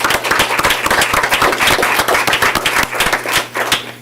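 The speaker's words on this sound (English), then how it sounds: "let's give him a round of applause." A school board meeting audience gives a round of applause, many hands clapping densely and loudly for about four seconds before tapering off, with no voices over it.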